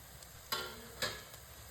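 Eggs frying in a pan for a simple Telugu egg fry, a steady low sizzle broken by two sharp scraping stirs about half a second apart, close and clear with no talking.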